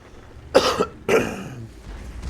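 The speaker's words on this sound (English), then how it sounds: "I'm sorry for the cough, and I'm still a little bit sick." Two sharp coughs close together, near and fairly loud, followed by quiet background.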